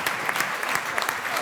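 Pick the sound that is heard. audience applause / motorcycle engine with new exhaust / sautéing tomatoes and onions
audience applause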